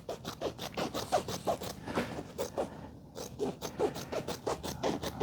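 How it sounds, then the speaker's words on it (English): Scissors snip through the thick fabric selvage of a button back desk chair cover, a close run of rough, rhythmic crunching cuts with a brief pause midway and no talk. "Cut off some of the salvage."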